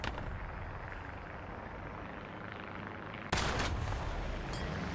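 A tank cannon firing in the online combat game War Thunder, one sudden loud blast cutting in after a steady low engine rumble, followed by a lingering roar and echo.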